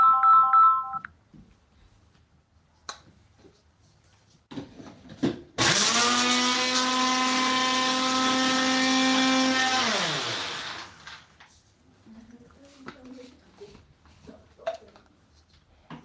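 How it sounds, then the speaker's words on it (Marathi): An electric kitchen mixer grinder whirs steadily for about five seconds, grinding homemade spice masala into a coarse powder, then winds down; faint kitchen clatter follows. "हा मसाला आपण आता मिक्सरला बारीक फिरून याचा पावडर तयार करून घेऊया"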